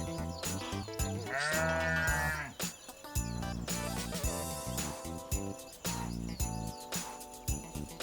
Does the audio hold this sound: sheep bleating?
yes